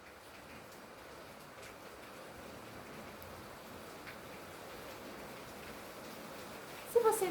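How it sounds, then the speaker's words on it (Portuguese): Steady, even hiss of heavy rainfall runs throughout at a moderate distance, with a brief louder clatter near the end. "Se vocês estiverem ouvindo barulho de chuva, é chuva."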